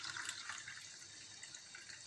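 Boiling water is poured from a kettle onto black seed and cumin, making a soft, steady splashing trickle that is faint and continuous throughout.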